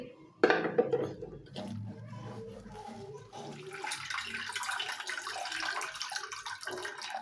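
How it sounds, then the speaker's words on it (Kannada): Water splashes and sloshes in a vessel as ingredients for a North Karnataka pundi palya dish are rinsed by hand, with clinks of a pot and intermittent pouring, recorded close up in a kitchen. "ಈಗ ನೋಡಿರಿ, ಇದು ಚಲೋ ತೊಳ್ಕೊತೀನಿ ರೀ ಫ್ರೆಂಡ್ಸ"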